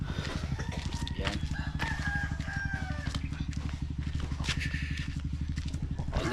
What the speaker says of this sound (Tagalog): Ayan guys, ang daming manok diyan oh.